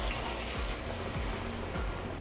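Water poured into a pot to cover stuffed onion dolme, a steady broadband splashing and running flow that stays fairly even and close for about two seconds with no talk.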